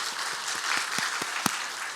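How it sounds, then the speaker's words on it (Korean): A church congregation gives steady applause during a Sunday service, a fairly even pattern of claps at moderate distance with no talk over it. "우리 위로하고 감사하는 박수를 하겠습니다."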